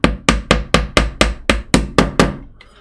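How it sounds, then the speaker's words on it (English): Ten quick, sharp taps of a small tack hammer driving a pin into a wooden model ship plank, striking in an even rhythm, close and crisp, each ringing briefly before the next. "I like to use my little tack hammer"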